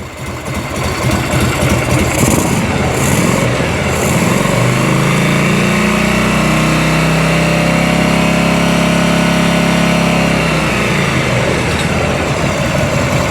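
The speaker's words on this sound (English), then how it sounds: "See what happens if I rev it up." A 1986 Harley-Davidson motorcycle engine idles loud and close, then revs up with a rising, throaty roar that holds for several seconds before dropping back to a rough idle.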